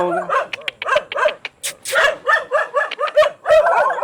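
Several dogs bark repeatedly and loudly at close range, a rapid string of sharp barks and yips with brief whimpers, in an outdoor residential setting.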